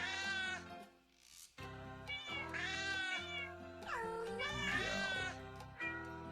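Cats meow repeatedly in the video game Cat President, a series of drawn-out, wavering cries, fairly loud and close, with little break between them.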